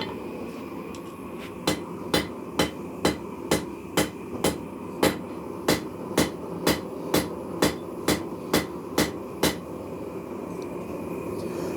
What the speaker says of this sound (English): So I'll go back in, hit that a little bit, draw it out some.